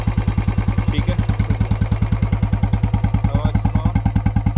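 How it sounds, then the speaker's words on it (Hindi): A Standard Bullet BS6 motorcycle idles close by, its single-cylinder engine thumping in a steady, even rhythm that stays loud and unchanged throughout with no talking over it. "चलो BS6 की आवाज़ दिखाते हैं, BS6 में कैसा आवाज़ आती है।"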